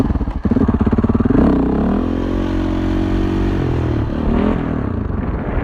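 A motorcycle pulls away slowly at the clutch balance point, its engine giving a close, loud, steady low drone after a brief clattering start, rising slightly as it moves off.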